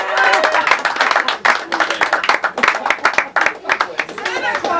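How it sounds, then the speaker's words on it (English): An audience at a Santa Clauzini magic show in 1992 claps in a dense burst of applause that rises and dips over a few seconds, with voices calling out underneath. "That's a round of applause."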